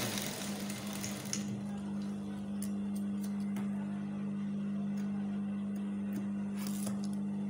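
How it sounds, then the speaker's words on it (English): A sewing machine stitching a quarter-inch seam for a fly front zipper on trousers, a faint continuous mechanical whir with a low steady drone and light clicks, with no voices. "So we are going to sew up to where the chalk ends from."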